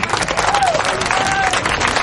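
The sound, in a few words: audience applause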